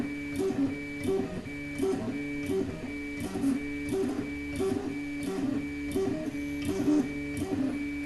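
A 3D printer runs and moves while taking measurements, its motors whirring in a steady repeating rhythm with a constant high tone over the top, close and moderately loud, with no talking.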